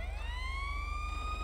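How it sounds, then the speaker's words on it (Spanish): A police car siren in GTA 5 wails steadily with a rising, then level tone over a low engine rumble, clear and fairly close. "Quita hasta la sirena de la persecución"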